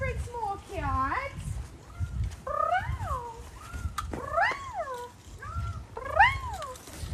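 A captive bobcat at an animal facility gives repeated rising-and-falling yowls and meows, several in a row over low background rumble, fairly close and loud.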